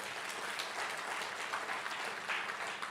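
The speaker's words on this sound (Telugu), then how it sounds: "చప్పట్లు కూడా దేవునికి మహింపరచండి" A church congregation applauds during a sermon, giving a steady wash of many hands clapping at moderate distance, fairly quiet and even throughout.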